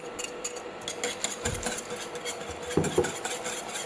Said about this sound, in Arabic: وابتدي اقلب، وبعدين ابتدي ارجعه واقلب باستمرار علشان الخليط ما يكلكعش مني